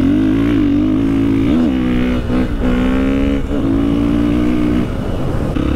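Dirt bike with an Akrapovic exhaust and its baffle removed, engine revving loudly and steadily with a few throttle dips and rises, close to the microphone, no talking.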